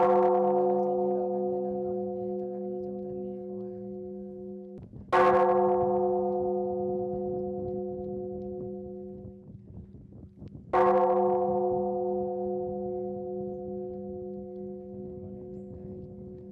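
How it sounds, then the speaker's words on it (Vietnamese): An evening temple bell at a pagoda is struck three times at slow, even intervals, each strike loud and ringing with a long, humming decay into the next. "Nơi đây chiều chiều lại vang vọng tiếng chuông thu không."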